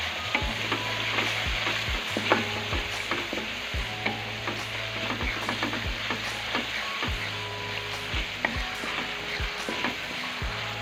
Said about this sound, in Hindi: अब हम इसमें सारे मसाले ऐड कर देंगे। 1 मिनट के लिए इसे फ्राई करेंगे।